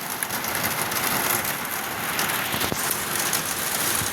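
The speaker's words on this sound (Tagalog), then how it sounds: "Maulan na tanghali sa lahat." Steady rain falls during a rainy afternoon, a dense continuous hiss of drops striking nearby surfaces with a few louder individual splashes, and no voices over it.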